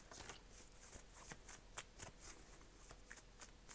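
Oracle cards are shuffled by hand in a quiet room, a close, soft riffling patter of repeated papery flicks and slides running steadily throughout, with no talking.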